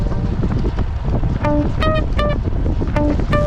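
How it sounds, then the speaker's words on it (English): Strong headwind gusting across the microphone while cycling uphill on a rural chip-seal road in northwest Montgomery County, Texas, a loud continuous rushing roar that swells in gusts, with a few brief tonal chirps over it. "You got the wind in our face, blowing, gusting"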